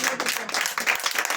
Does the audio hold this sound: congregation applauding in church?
yes